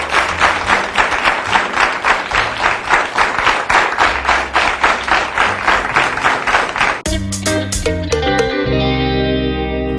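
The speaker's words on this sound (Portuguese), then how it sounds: "Uma salva de palmas para os nossos convidados e convidadas." Audience applause for guests on a scouting radio segment, a dense run of rhythmic, heavily processed clapping that breaks off into a jingle-like musical sting near the end.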